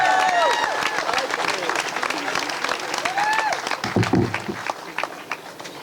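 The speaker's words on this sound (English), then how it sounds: "Clap your hands." A crowd at an outdoor statue unveiling ceremony claps and applauds steadily as people stand, with cheering voices and whistles rising above the clapping and a brief low thump partway through.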